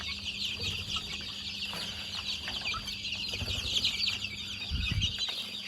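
Flock of three to four hundred meat chickens on a Thai poultry farm, a steady dense chorus of clucking and chirping with occasional wing flapping and scuffling close by.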